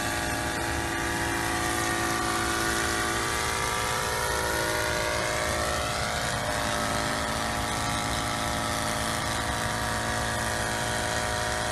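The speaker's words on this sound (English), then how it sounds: "So now we're going to land the helicopter." SK1000 UAV helicopter with a new, slightly rich-running engine settling into an autopilot landing, a steady mechanical engine and rotor drone with shifting tonal harmonics, heard alone at moderate level.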